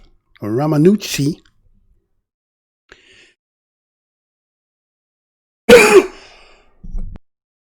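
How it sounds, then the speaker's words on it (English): A single sharp cough sounds between brief bursts of speech, with quiet gaps before and after. "and a cough there"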